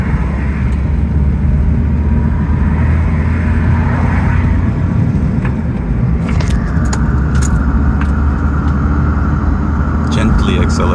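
A homebrew electric Suzuki Swift accelerates gently with a steady road rumble and a faint rising whine. A strange rattling noise comes from the car, and people talk in the car.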